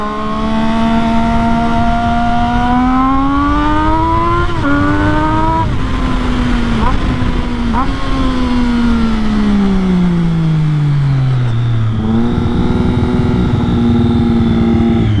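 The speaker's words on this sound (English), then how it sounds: "Keep this thing revved up, I don't want to stop." Daytona 675 motorcycle engine held at a steady high rev while smoking and burning oil, a loud continuous drone that rises, dips and climbs again with no talk over it.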